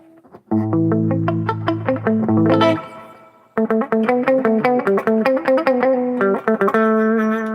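A Gibson electric guitar is played through its pickup with all volumes and tones turned up, giving loud ringing strummed chords in two phrases separated by a short pause.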